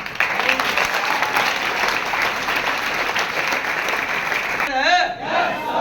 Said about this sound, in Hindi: जोरदार ताली जरूर बजाइएगा